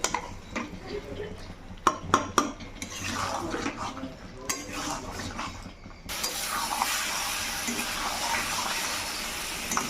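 Mutton being stirred and fried in a pot for a Bengali mutton jhol with new potatoes, giving scraping, clinking metal-on-pot strokes in irregular bursts, then a steady loud sizzle for the last few seconds.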